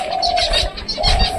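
Pigeons coo at a pigeon loft, low throaty calls rolling close and loud, with a steady hum and some chirping mixed in.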